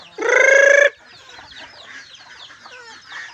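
A flock of chickens with many chicks: a loud, close rooster-like crow or squawk opens, followed by busy, softer clucking and high peeping chatter continuing throughout, no talking.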